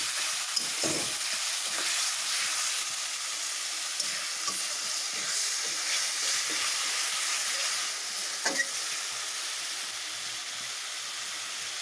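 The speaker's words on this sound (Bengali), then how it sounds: "বন্ধুরা এই দেখো আমার মশলাগুলো এখন কষিয়ে নেব।" Spices sautéing in a pan, a steady bright sizzle throughout with occasional soft scrapes and taps of a stirring utensil, close and alone without talk.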